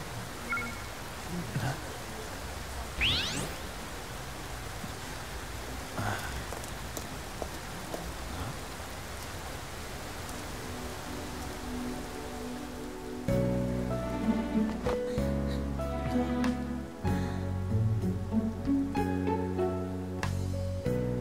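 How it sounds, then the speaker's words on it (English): Steady rain patters on surfaces throughout in the game Persona 5, later joined by loud musical tones over the hiss of the rainfall. "I did it, and it's raining."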